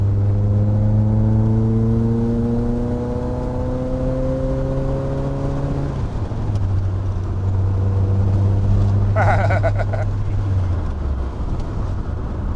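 A VW Golf MK1 CTI engine pulls in third gear, its drone climbing steadily in pitch, then easing off and settling into a lower hum. A brief rattle comes near the end. The sound is loud and close, as from inside the car.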